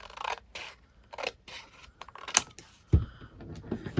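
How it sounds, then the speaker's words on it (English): Scissors cut through paper along a line in a few quiet, separate snips and scrapes, close by and soft, with faint handling noises between the cuts. "If I take this and cut this right along this line"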